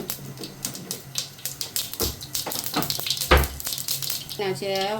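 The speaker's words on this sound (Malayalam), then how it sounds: "എണ്ണ ചൂടായി. 1 ടീസ്പൂൺ ഇത് ഇട്ട് കൊടുക്കുക. കടുക് പൊട്ടണം." Mustard seeds splutter and pop in hot oil in a pan, a busy crackling sizzle of rapid small bursts with occasional utensil clinks, close and fairly loud.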